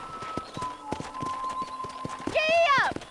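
A horse in the Red Dead Redemption video game trots with steady, close clip-clopping hooves, then lets out a loud whinny near the end.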